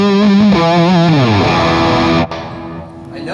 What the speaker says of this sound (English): when you are wide open, it sounds more like that P90 type sound.